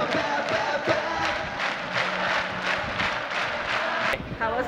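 A concert crowd in Belgium at a show chants a repeated ba ba ba in loud rhythmic bursts, a dense mass of voices pulsing steadily over ongoing crowd noise.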